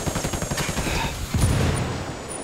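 Sustained gunfire in the Ghost Recon Wildlands video game, dense overlapping rifle and machine-gun bursts with booming impacts, loud and continuous through the whole stretch with no speech.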